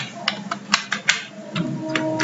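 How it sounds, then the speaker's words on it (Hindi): Keys pressed on a computer keyboard while entering inventory vouchers in accounting software, heard as a handful of separate, fairly close clicks spaced irregularly over about two seconds, with no talk. "उसके लिए हम कीबोर्ड से की प्रेस करते हैं ऑल्ट के साथ"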